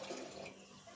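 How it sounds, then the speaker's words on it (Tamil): Water poured into a pot of tamarind toor dal rasam, a steady close splashing pour that runs for about a second with no talk. "இப்போ தேவையான அளவு தண்ணி நம்ம சேர்த்துக்கலாம் ரசத்துக்கு"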